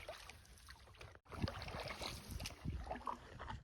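A canoe is paddled upstream on a creek, with soft, irregular splashes and water swishes close by and a brief break partway through.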